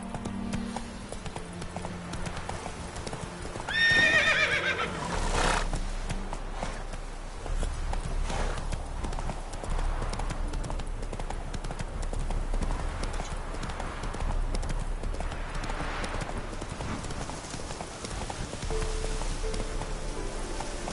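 Horse hooves in The Witcher, a continuous rhythmic clip-clop of a walking or trotting horse close by over soft outdoor ambience, with a brief higher call near the start that may be a neigh.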